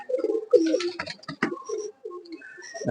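Pakistani pigeons coo in a close, repeated, throaty rolling rhythm, with brief pauses between calls.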